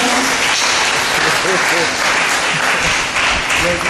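A church congregation bursts into sustained applause to acclaim Jesus Christ, dense clapping filling the room steadily from start to finish with a few voices and cheers mixed in.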